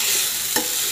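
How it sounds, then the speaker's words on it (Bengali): Cauliflower curry with yogurt and garam masala sizzles in a frying pan, with one quick, close scrape of a spoon stirring through the hot food. "গরম মশলা দিয়ে আরও একবার নাড়াচাড়া করে নিয়ে"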